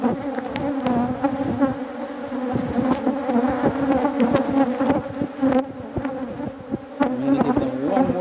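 Honey bees buzzing around an open hive during an inspection, a dense, droning swarm hum close by with fluctuating pitch and occasional sharper passes, a few soft handling knocks, no talk.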